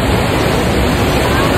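A strong river current rushes with a steady, dense roar that fills the whole stretch, loud and close, with no breaks.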